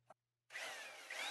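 A power drill spins a 3D printed transmission and flywheel, a short click followed by a loud, steady whirring grind that runs on evenly after a brief pause.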